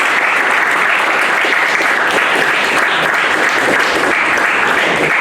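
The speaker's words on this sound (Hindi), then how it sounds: "जोरदार तालियां इन लोगों के लिए।" Loud, sustained applause from an audience cheering award winners at a monthly oratory award ceremony, a dense even wash of clapping with no break throughout.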